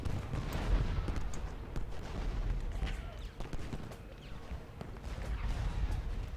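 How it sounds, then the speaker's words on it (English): Artillery in the Ultimate General: Gettysburg video game firing on troops, a dense continuous rumble of booms and crackling gunfire with scattered sharper reports, with some talk over the battle noise. "You got all this artillery shooting at them."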